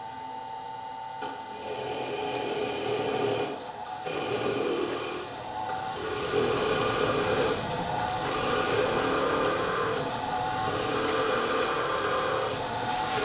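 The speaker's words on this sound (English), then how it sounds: "this drill, the actual drill's hardly spinning at all" A small rotary drill with a 1.5 mm bit grinds steadily through a stone bead, a continuous buzzing rasp with slight changes in pitch, close by and moderately loud.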